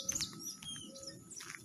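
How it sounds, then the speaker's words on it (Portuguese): Small birds chirp and tweet in quick, high bursts against a quiet outdoor background at a campsite in Jacuí, Brazil, fairly faint and scattered. "O canto dos pássaros aí."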